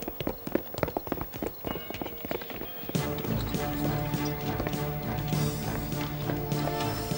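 Cartoon horses trot with quick, rhythmic clip-clop hoofbeats for about three seconds, then the sound shifts to a sustained musical tone.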